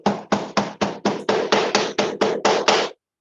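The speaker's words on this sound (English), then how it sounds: "I'll compress it with a hammer" A steel hammer pounds clay packed into an aluminium flask for sand casting, twelve evenly spaced, fairly loud thuds in a quick regular rhythm, then silence.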